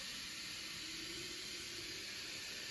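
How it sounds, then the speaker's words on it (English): Water runs through a Kuvings slow juicer to rinse it, a steady close hiss of flowing water with no pauses and no talk. "what I always do, I wash it through"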